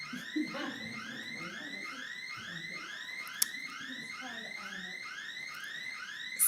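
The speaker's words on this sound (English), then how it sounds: "I did want to call attention to the alarm." An alarm sounds in a school board meeting room, a repeating electronic sweep that rises and falls in rapid, regular cycles, moderately faint and continuous, with a brief sharp click midway and low room noise beneath.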